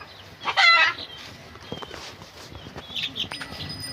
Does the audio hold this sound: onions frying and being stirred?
no